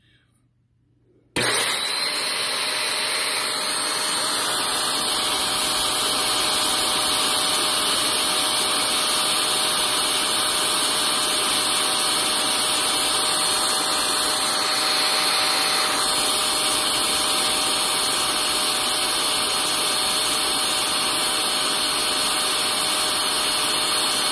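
Vacuum cleaner motor fitted with a Filtropur FC F3000 filter switches on after a short silence and runs loud and steady for over twenty seconds, with a constant high whine and roar.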